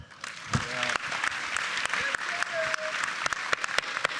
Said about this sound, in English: Big applause for that.